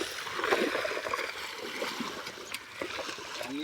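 Water in a salt pan is churned and stirred, giving a soft continuous sloshing and splashing with gentle surges, close by and moderately quiet, without talk.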